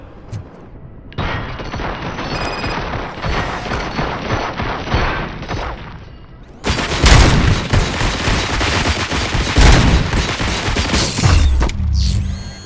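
Heavy gunfire and mechanical clatter in the first-person shooter RoboCop: Rogue City, a long, dense barrage that grows louder and fuller partway through, with booming impacts and no talk.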